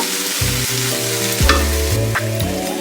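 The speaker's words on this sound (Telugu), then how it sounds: "ఇవన్నీ కొంచెం దోరగా వేయించుకుందాము" Curry leaves fry in a pan with chopped snake gourd for potlakaya curry, a steady close sizzle broken by a few brief scrapes and stirs, with no talking.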